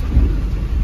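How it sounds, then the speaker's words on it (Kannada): Heavy rain comes down during a thunderstorm, with a deep low rumble of thunder over the steady wash of falling water, loud and brief. "ಮಳೆ ಅಂತ ಸಿಕ್ಕಾಪಟ್ಟೆ ಬರ್ತಾ ಐತೆ ಮಳೆಗೆ ನೆನ್ಕೊಂಡೆ ಆಗ್ತಾ ಇದೀವಿ"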